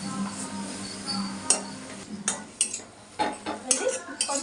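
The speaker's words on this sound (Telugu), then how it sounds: "అందుకని చింతపండు వేస్తున్నాను." Tamarind pulp is added to gongura leaves cooking in a pan, followed by stirring with a metal spoon: soft simmering under a series of sharp scrapes and clinks against the pan, close and fairly quiet.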